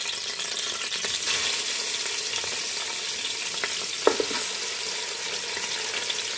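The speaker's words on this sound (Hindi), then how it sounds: "और चिकन को हम फ्राई कर लेंगे।" Chicken pieces frying in a pan for chicken corn soup, a steady dense sizzle with occasional stirring clatter and a sharp clink near the end, close and continuous, no talking.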